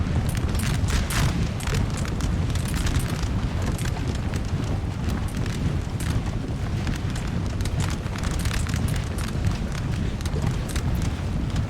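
Cannon fire and explosions in the video game Napoleon: Total War, a dense continuous rumble of booms and battle noise throughout, loud and unbroken.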